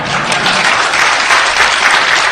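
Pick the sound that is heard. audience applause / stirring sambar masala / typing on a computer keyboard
audience applause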